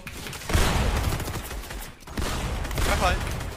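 Dense bursts of rapid video game gunfire fill the clip, loud and continuous, with a brief lull midway before the shooting resumes.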